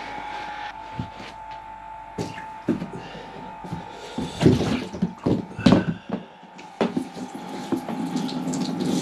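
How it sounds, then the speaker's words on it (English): Heated rainwater runs steadily from a portable outdoor shower, splashing and gurgling unevenly with a few louder gushes. "I'm gonna add some hot to this rainwater and have myself a nice little shower"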